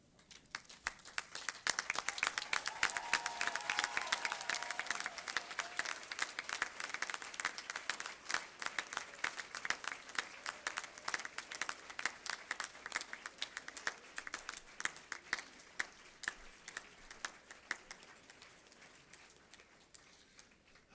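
A graduation audience at a university commencement claps for a long stretch in a hall, a dense, steady patter of many hands that swells early and then slowly thins out, with no talking.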